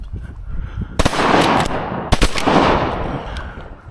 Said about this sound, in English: We shot at the same time.